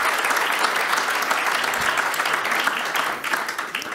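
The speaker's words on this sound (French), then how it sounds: "Vous pouvez les applaudir." Audience at an out-of-home advertising industry conference applauding, a full, steady burst of many hands clapping that tapers slightly near the end.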